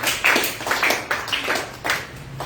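A church congregation claps in a steady rhythm to acclaim the Lord, about two claps per second, moderately loud within the room.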